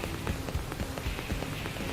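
Steady rainfall in the Xenoblade Chronicles X game world, a dense continuous patter of drops hitting surfaces, even and enveloping throughout.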